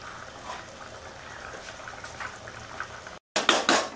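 A pot of potato and pointed gourd curry bubbles under its lid with a soft, steady simmer, followed by a short gap and a few sharper clatters and splashes near the end.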